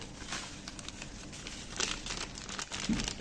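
A plastic bag of powder is handled up close, giving a continuous crinkle with scattered rustles and small crackles and a slightly louder crumple near the end.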